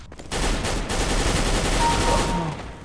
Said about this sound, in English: It's a beautiful shotgun, isn't it,